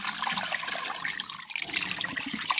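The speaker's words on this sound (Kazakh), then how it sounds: "Енді су құямыз." Water gushes into a cooking pot (kazan) of washed horse meat for beshbarmak, a continuous splashing pour heard close and alone.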